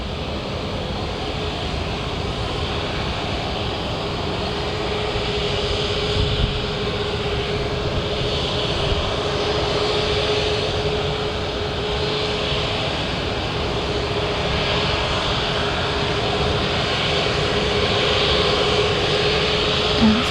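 Steady jet aircraft roar at Manchester Airport, from a new Boeing 737 MAX 8-200 style airliner, a continuous broadband rumble holding at constant loudness throughout with no voices.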